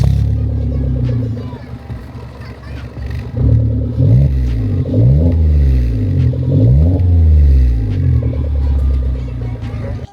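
A manual Suzuki Jimny JB74 with a 1,500 cc engine and an aftermarket side-exit muffler on the left idles with a rumble, then revs up several times in rising and falling surges while a voice talks nearby.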